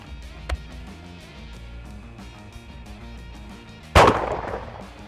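A single loud shotgun blast from the half-choke bottom barrel, firing a cheap 28 gram 7.5 clay load with plastic wad at an outdoor target, sharp and close with a short decaying tail after a quiet lead-in.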